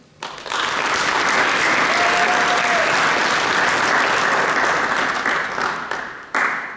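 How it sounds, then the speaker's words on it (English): Audience applause at a high school National Honor Society induction ceremony, a dense steady clapping that holds for several seconds and then tapers off. "please join me once again in applauding all of our new Honor Society members"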